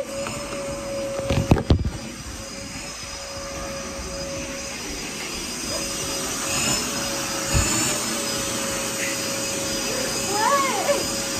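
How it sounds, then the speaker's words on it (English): A vacuum cleaner runs continuously as it sucks at a shirt being worn, a steady loud whining drone with a brief knocking burst early on, while people talk over it. "Vacuuming her shirt."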